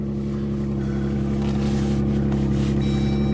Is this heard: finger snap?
no